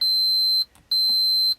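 A multimeter beeps for continuity while probing a Dell Optiplex 790 power supply: two steady, high-pitched electronic tones, each about half a second long and separated by a short gap, loud and close.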